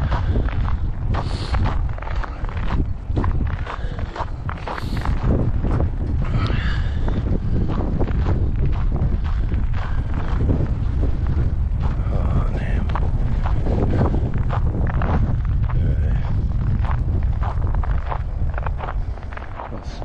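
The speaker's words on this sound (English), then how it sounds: "You can't hide from the wind, you get cold." Strong outdoor gusts batter the microphone during a walk to and from a library in below-zero cold with ice everywhere, a loud continuous roaring rumble with buffeting surges, and faint footsteps and movement underneath.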